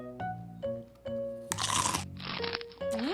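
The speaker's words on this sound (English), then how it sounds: "she saw a deer munching on an apple" A cartoon deer bites into an apple with loud crunchy munching, a couple of crisp bursts set between short tonal musical notes and chimes.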